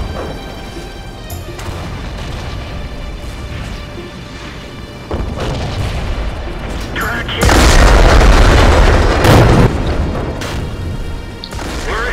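Shots strike a tank's tracks in a tank video game, giving loud booms and crashing impacts over the rumble of battle, rising into a heavy burst of hits near the end.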